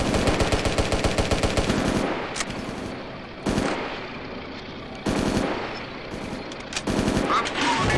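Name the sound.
machine gun fire from a tank in video game Steel Fury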